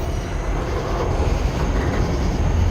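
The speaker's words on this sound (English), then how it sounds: "It's a loud train wheel." Train wheels roll past loud and close in Stockbridge, Georgia, a constant heavy rumble and rattle of rail cars with no voices over it.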